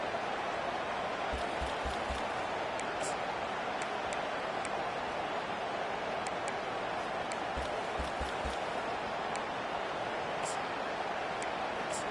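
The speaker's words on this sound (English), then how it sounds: "Decibels rising as the crowd gets behind this defense on third down." A football stadium crowd roars behind the defense on third down, a dense, unbroken wall of cheering that stays loud and steady throughout, with faint clicking and rustling scattered on top.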